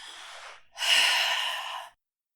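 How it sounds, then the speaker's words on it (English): Two deep breaths during a head-to-knee yoga pose: a softer breath in, a short pause, then a longer, louder airy exhale, close and alone with no talk. "let's take another breath"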